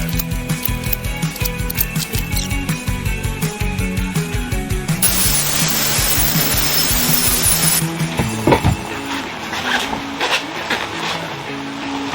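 Power saw cutting chestnut wood segments for octagons, loud rhythmic cutting strokes giving way to a sustained high whine, then a quieter run-down with clunks of handled pieces.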